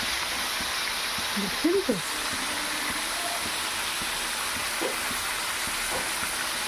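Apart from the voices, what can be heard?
chicken meat frying with onions in oil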